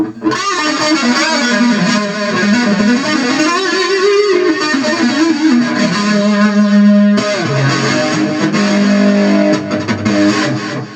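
An electric guitar played through heavy effects on a Beta Aivin BM6 portable amplifier, with distorted, chorus-like sustained notes and bending pitch, loud and continuous.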